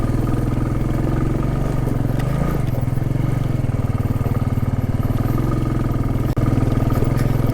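A motorcycle engine chugs steadily at close range while the bike rides over a badly damaged, broken road, with a rattling clatter and one sharp jolt near the end.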